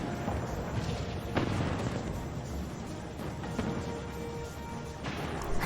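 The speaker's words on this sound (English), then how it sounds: "Explosions, hooray!" Explosions as airships ram each other in Final Fantasy XIV, a steady rumbling roar with a few dull booms rising out of it and a sharp blast at the very end.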